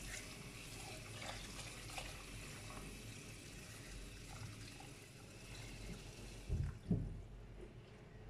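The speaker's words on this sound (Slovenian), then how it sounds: "damo toplo vodo" Warm tap water running steadily into a pot of candied orange peels, a soft continuous faucet flow with a couple of louder splashy thumps near the end.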